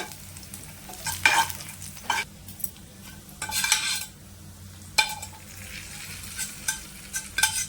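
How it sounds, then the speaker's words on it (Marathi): Hot tempering is poured onto a chutney and sizzles, then a spoon stirs it, giving sharp sizzling bursts and scraping at intervals over a quiet, low background hum. "आता ही फोडणी गरम गरम घालूया आपण"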